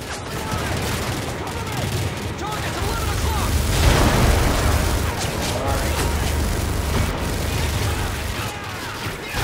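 A grenade blast bursts amid continuous gunfire and battle noise in the video game Call of Duty Modern Warfare 3, with a loud swell near the middle of a dense, steady war soundscape.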